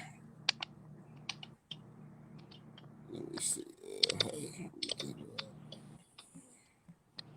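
Soft clicking of keys being typed in short bursts, with a person speaking briefly and some background rustle.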